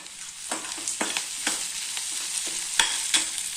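Curry leaves and chillies fry in hot oil with softened onions for ragi upma, crackling steadily while a spoon scrapes and stirs the pan in regular strokes, close up with no talking.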